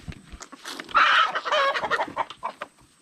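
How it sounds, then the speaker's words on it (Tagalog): Farm chickens cluck and squawk close by in a provincial poultry and pig yard, a quick burst of overlapping calls with one louder sustained squawk in the middle, no talk over them. "Tutok mo din ang camera sa mga manok tayo."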